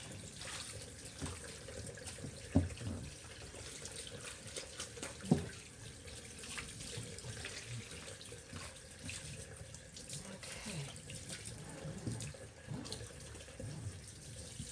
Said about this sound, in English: let that soapy water go down the drain